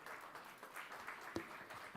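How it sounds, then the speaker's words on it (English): Applause for a speaker at a summit can be heard faintly and far off as a soft, steady patter, with a dull thump partway through. "Huge round of applause for Dr. P."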